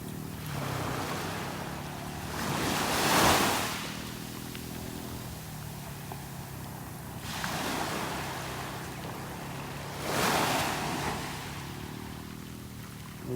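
Ocean waves break on a Gulf beach in North Naples, Florida, at sunrise. Three separate surges of surf swell and wash in, with a steady hiss of water and light wind between them, and no talk.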